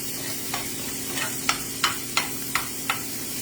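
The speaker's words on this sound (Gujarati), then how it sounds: "જીરું શેગા માંડ્યું છે એટલે હું હવે એમાં મરચાં નાખી દઉં છું. બધું આપણે બરાબર રીતે સાતળવાનું છે." Cumin seeds and green chillies sautéing in oil in a pan, an even sizzle under a rhythmic series of spatula strokes that grow sharper and more regular, roughly one every third of a second.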